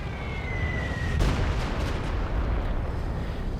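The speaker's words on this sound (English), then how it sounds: "Oh, he's using it for a Stuka drop." A Stuka dive bomber strike in the Company of Heroes 2 video game, heard as a dense, loud rumbling barrage of booms with a sharp blast about a second in, sustained over several seconds with no talk.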